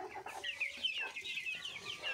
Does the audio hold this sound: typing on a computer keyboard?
no